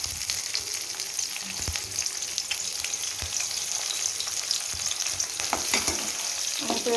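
Chopped onion fries in soybean oil, giving a steady, dense sizzle with scattered crackles and a few soft stir clicks, continuous and fairly close throughout with no talking.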